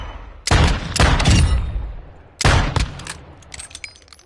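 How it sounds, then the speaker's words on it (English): Gunfire in Call of Duty: Modern Warfare 2 multiplayer rings out in sharp close bursts, two quick shots, a pause, then another report followed by fainter metallic clinks and rattles. "I'm kind of curious to see how many shots it takes to kill him from here."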